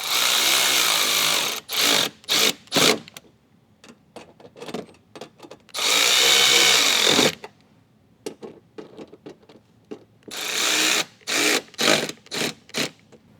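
Short bursts of a power drill driving screws to secure mud flap brackets on a 2022+ Nissan Frontier, several whirring runs of a second or so separated by quiet pauses and small clicks.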